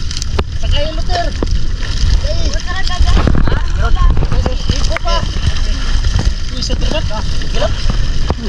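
A motorboat engine drones steadily on the water throughout, with splashing and gurgling mixed in and people talking over the constant motor noise.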